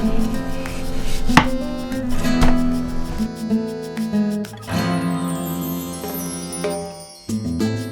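A knife cuts partially frozen pork butts into cubes on a board, with repeated uneven chops and thuds close up, a few sharp knocks standing out and no one speaking.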